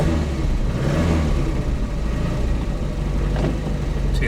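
A Triumph TR7 fitted with a full TriumphTune kit drives along, its engine pulling with a steady mid-pitched drone and gentle revving, loud and near, with no talk.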